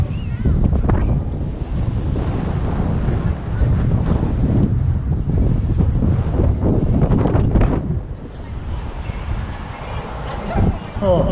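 Loud, steady wind roars and buffets across the microphone high up on the Star Flyer swing ride in Orlando, easing slightly toward the end, with a rider talking under it.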